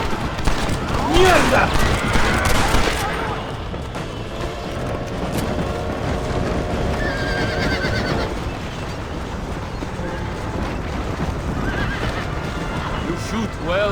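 Scattered gunfire crackles during an ambush in Red Dead Redemption, mixed with horses neighing and hooves clopping, while someone shouts briefly.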